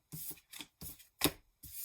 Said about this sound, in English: I can't shuffle for the life of me